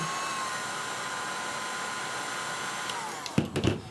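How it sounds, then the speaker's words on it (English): A heat gun blows steadily on a braided cable sleeve to shrink it into place, a close, constant airy whoosh that cuts off near the end with a few soft knocks. "I'm going to hit it up with some heat so that it fits in there properly"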